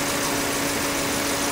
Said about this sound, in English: Cooling fan just kicked back in.